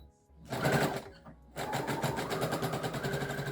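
Sewing machine zigzag stitching around a tote bag, a brief burst of stitching, a pause, then a steady, close, continuous mechanical whir with rapid regular needle pulses.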